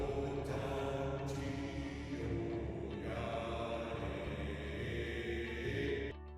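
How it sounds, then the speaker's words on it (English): Chanted mantra sounds: sustained, resonant droning tones hold steadily for about six seconds, soft and even in level, with a few brief brighter accents rising over the drone and no spoken words. "If you're still not getting what a mantra is, listen, they sound something like this."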